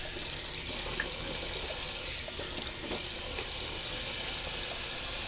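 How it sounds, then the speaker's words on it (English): Cold tap water runs steadily into a sink for a shaving-brush rinse, a continuous close splashing hiss with no talk. "Do a little cold water rinse."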